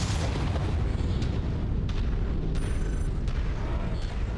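Ammunition explosions in the MechWarrior 5 video game, heard as a steady, dense rumble of booming blasts with sharper pops scattered throughout, loud and continuous with no talking.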